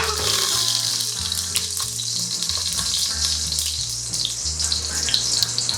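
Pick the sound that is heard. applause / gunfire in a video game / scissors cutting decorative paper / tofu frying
tofu frying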